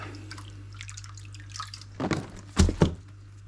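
Aquarium tank water splashes and drips into a bucket onto filter media from an Eheim 1200XL filter, soft trickles building to a couple of louder close pours over a faint steady hum.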